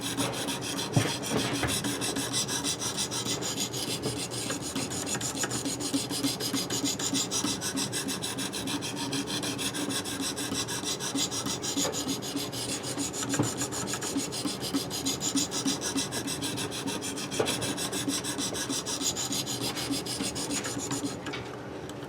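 A knife blade is drawn again and again across a ViperSharp diamond sharpening stone, making a continuous gritty rasping scrape in quick repeated strokes, close and alone.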